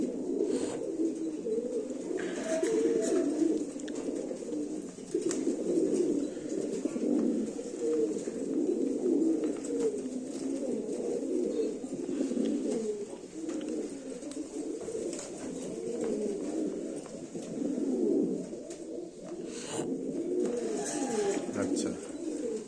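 American Fantail pigeon breeding pairs coo steadily in low, rolling murmurs that overlap continuously throughout, close and fairly loud, with a few faint chirps and a voice speaking at times in the background.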